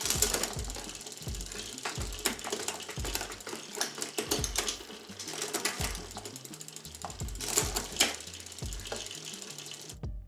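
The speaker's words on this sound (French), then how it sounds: "Allez, un petit test de passage des vitesses." Gears shift repeatedly on a gravel bike fitted with Shimano RSX levers, giving close mechanical ratcheting clicks and drivetrain clatter in quick, uneven runs.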